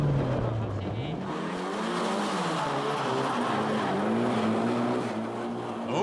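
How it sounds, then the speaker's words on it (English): Drift cars at a D1 Street Legal event at Maze slide through a corner, with engines rising and falling and tires squealing in a long, continuous roar, heard from a distance at a steady level. "Both drivers pull off clean drifts."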